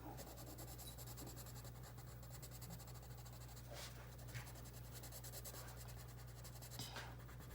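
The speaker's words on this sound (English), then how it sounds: "adding color to a coloring page with watercolor pencils without the water" Watercolor pencils used dry on a paper coloring page give a steady, soft scratching of pencil on paper, close and continuous, with a few brief brighter strokes and a low hum underneath.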